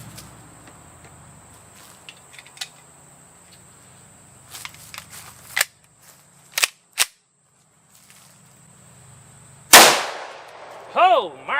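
A powerful compact pistol with a .75 FK barrel fires at armor: a handful of sharp, close shots spaced irregularly over several seconds, followed by a loud metallic impact ringing out near the end.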